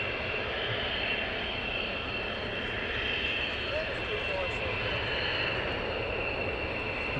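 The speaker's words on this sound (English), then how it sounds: "These have just been cleared for takeoff." Military jets taking off at RAF Lakenheath produce a steady, broad engine roar that holds at an even level throughout, with no break or sharp peak.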